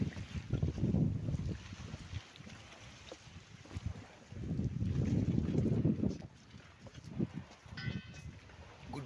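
A boat pulling away from Bangaram Island in Lakshadweep: a low, rumbling engine drone that swells and fades in waves, mixed with wind buffeting and water wash, steady and moderately loud with no talking.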